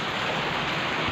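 Heavy typhoon rain pours down in a dense, continuous roar, loud and close, with no break across the moment.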